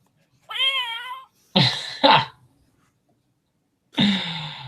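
A cat gives one drawn-out, wavering meow, then a few short breathy huffs follow with quiet gaps between them. The sounds are close and clear over near silence.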